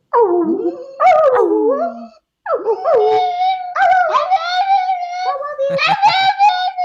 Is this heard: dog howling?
yes